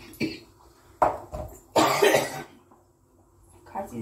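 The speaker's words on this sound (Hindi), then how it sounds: "खांसी से ही परेशान हूँ मैं" A woman with a week-long cough gives several sharp coughs close by, a short one, another pair, then a longer harsh burst, with brief quiet between them.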